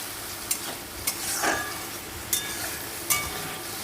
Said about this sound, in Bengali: এবার সুন্দর করে কষিয়ে নেবো